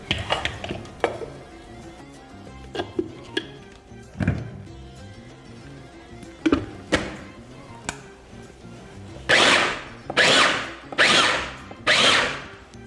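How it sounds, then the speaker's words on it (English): Electric grinder pulsing kebab ingredients in short bursts, several brief whirring blasts growing louder toward the end, preceded by kitchen clatter and handling noises up close. "you don't need to grind it a lot, just a bit will do"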